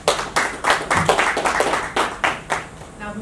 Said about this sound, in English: A big round of applause for the We Clean project.